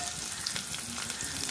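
Oats roast in a pan with a faint, steady dry sizzle and light crackle, close and alone with no voices.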